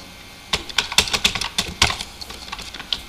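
Quick bursts of keystrokes on a computer keyboard as a password is entered, close and crisp clicking for about two and a half seconds with no talking.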